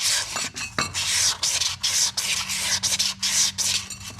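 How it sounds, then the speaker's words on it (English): Sandpaper rubbing the glazed rear brake of a Yamaha Wolverine 350 ATV, a close, loud, rhythmic back-and-forth scratching in steady strokes. "This sandpaper is actually a little aggressive."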